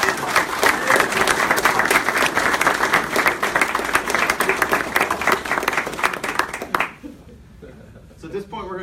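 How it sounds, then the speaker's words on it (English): An audience gives a sustained round of applause at a baseball trophy presentation, dense clapping lasting about seven seconds before stopping abruptly, followed by quieter room sound and a voice starting to speak. "Can we give her a round of applause?"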